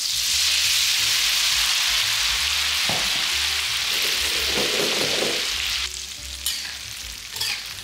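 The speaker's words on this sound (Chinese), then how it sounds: "片刻之后，我们就可以听到油里面已经没有什么水分的声音了" Crispy battered tofu deep-frying in hot oil gives a loud, continuous crackling sizzle that fills most of the clip, then eases slightly near the end with a few sharper pops.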